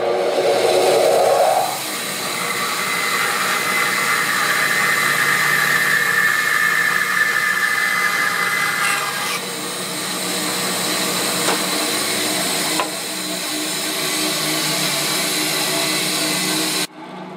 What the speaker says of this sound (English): I'm lining it up with a slot in the table saw